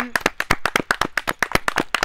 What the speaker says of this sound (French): Félicitations au vainqueur, on applaudit.